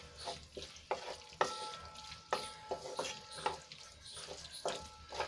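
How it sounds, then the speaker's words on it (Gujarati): Homemade pizza masala and tomato sauce are stirred in a sizzling pan, with a soft frying hiss under repeated close spoon clicks and scrapes at an uneven rhythm. "અહીંયા આપણે ટમેટાનો સોસ એડ કરીશું અને સરસ રીતે આપણે મિક્સ કરી લઈશું"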